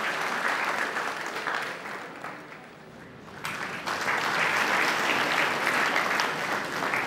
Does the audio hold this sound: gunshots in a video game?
no